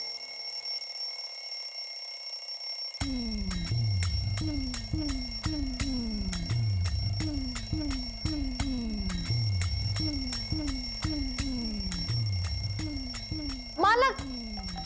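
A muffled alarm clock rings from inside a bag in a Marathi TV serial scene, starting abruptly after a quiet stretch and repeating in steady bursts for over ten seconds, with a brief sharper chime near the end.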